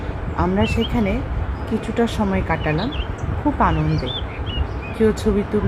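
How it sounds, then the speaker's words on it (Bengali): Birds call in a home garden full of vegetable plants, chili plants and flowers. Their light chirps stay faint and scattered beneath continuous spoken narration. "শান্ত পরিবেশে পাখির ডাক আর হালকা বাতাস মনটা করে দিল ফ্রেশ"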